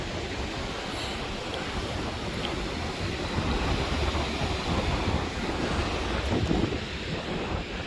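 Rough, stormy sea surf rolls in steadily on a cold coast at Arkhipo-Osipovka, with a strong southerly wind blowing off the water and buffeting the microphone throughout.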